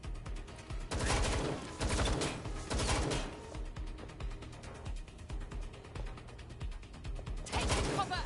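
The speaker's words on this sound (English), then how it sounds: "It is shooting!" Bursts of gunfire in the video game Watch Dogs Legion come in repeated loud volleys with brief lulls between, set against a steady game soundtrack, with shouted voices faintly mixed in.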